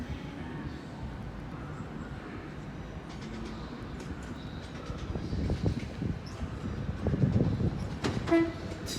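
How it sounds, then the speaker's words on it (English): A Class 802 IET train at Exeter St Davids station sounds a brief, fairly distant horn tone near the end, over a low rumble of rail traffic. "nice tones there by the driver"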